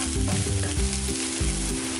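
Onions and green chillies fry in a pan with a steady, close sizzle while a utensil stirs and scrapes through them in a few slow passes.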